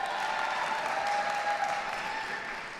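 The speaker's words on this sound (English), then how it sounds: "cheer if you'd eradicate all mosquitoes" A live talk audience responds with a brief, steady burst of cheering and applause that holds level for a few seconds, then fades slightly at the end.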